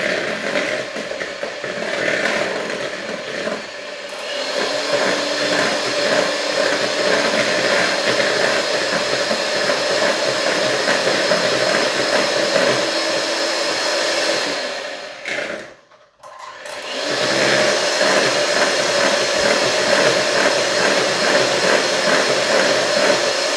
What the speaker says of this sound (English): Okay, so now I'm going to continue on mixing this together.